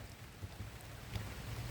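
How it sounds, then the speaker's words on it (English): Steady rain hissing down hard and continuously during a storm, a dense broadband wash with scattered heavier drops and no voices. "now rain's coming down like really fast"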